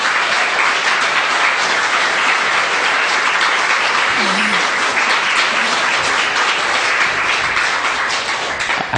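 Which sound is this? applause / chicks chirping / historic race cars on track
applause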